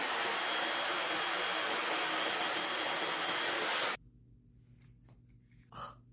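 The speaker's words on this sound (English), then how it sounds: "I am gonna do the blow dryer trick to add just a little bit of volume" Loud, steady whoosh of a blow dryer running close by on a synthetic wig, cutting off abruptly partway through, followed by quiet room noise and a soft breath.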